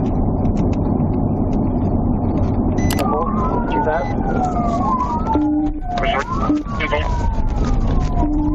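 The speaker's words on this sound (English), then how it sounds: "prompting Hale to activate his siren and notify Troop G dispatch." A police car siren wails, sweeping up and down from about three seconds in, loud over a constant heavy engine rumble and road noise during a high-speed pursuit in Arkansas.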